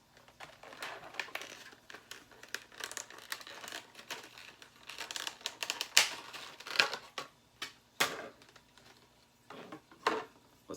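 Plastic pog toy packaging being cut open, with close crinkling, snipping and crackling plastic sounds in irregular bursts, a few sharper snaps standing out.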